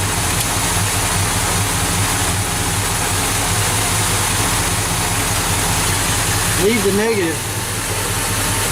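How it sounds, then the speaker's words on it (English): A car engine idles steadily after being started to jump-start another car with a weak battery, a constant low rumble throughout, with someone speaking briefly near the end. "Go ahead and start the vehicle."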